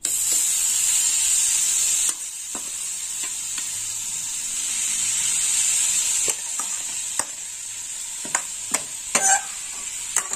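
Grated coconut cooks in a hot wok on a gas stove for a coconut sweet, giving a steady close hiss broken by scattered scraping taps of stirring, growing busier near the end.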